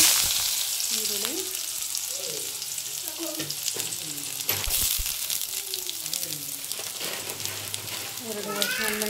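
Mustard seeds splutter and crackle in hot oil for a tempering in a village kitchen, a busy, continuous frying sizzle with scattered pops, while a person talks over it much of the time.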